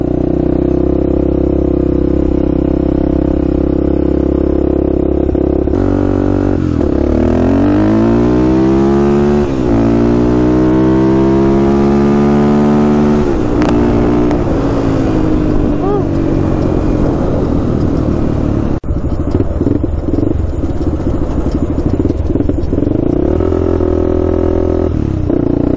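Quad ATV with wobbly front tires being ridden, its engine droning and revving up and down through rising and falling pitch, loud and close throughout with brief talk.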